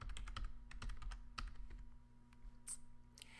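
Typing on a computer keyboard to enter text: a quick run of close, crisp key clicks in an irregular rhythm, loud and alone over a faint steady hum, with a brief pause before a few more taps.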